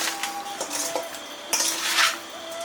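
Seasoned pork belly is stirred in a bowl with light soy, dark soy, rock sugar, salt and chicken stock, making close, continuous metallic scraping and clinking of a utensil against the dish.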